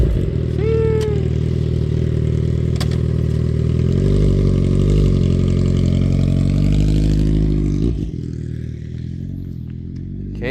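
A Kawasaki Z800 motorcycle engine runs loud and close, a steady throaty rumble with a brief rising rev near the start, then the tone drops and changes near the end.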